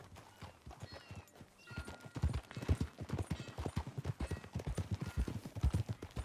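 Horse hooves clip-clop steadily in a ridden gait in the Western video game Red Dead Redemption, a close, rhythmic string of hoofbeats that grows busier and louder partway through, heard alone without talk.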